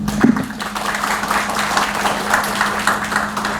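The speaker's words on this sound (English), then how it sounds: "Please join me in giving a last round of applause for our presenters today." Moderate applause from a symposium audience for the presenters, an even patter of many hands under a steady low hum, with no voices.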